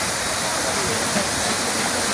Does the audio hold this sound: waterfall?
yes